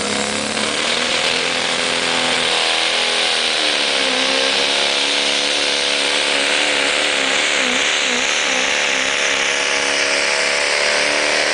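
The engine of a rally vehicle at a redneck rally revs up hard and loud, climbing and wavering in pitch as it winds out. Roaring continuously and close by, it rises and falls with no speech over it.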